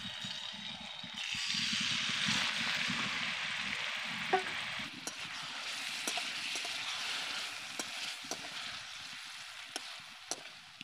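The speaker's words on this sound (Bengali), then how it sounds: "এবার তেলের মধ্যে বেটে রাখা ধনে পাতা দিয়ে দিচ্ছি।" Ground coriander leaves fry in hot white oil with a soft, steady sizzle that rises as they hit the pan, broken by several sharp utensil taps against the pot; no speech is heard.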